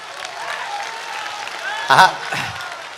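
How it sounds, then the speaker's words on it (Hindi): Audience applause at a Hindi-speaking religious gathering, a steady wash of clapping from a crowd that swells briefly near the end, with a voice heard over it. "बजाओ ताली"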